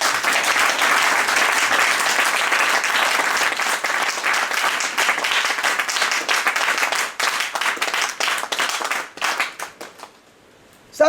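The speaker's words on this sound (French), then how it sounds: "Applaudissez." An audience applauds at an Ogboni coronation ceremony in Congo DRC, with loud, dense clapping that thins into scattered claps and then dies away near the end.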